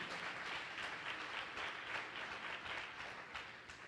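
A church congregation claps together, a faint but steady wash of hands with a loose shared rhythm, continuing evenly before thinning slightly toward the end.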